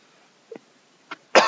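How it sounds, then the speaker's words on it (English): Two small, quick coughs followed by a louder, harsher cough, all alone with no talking. "Pardon my cough."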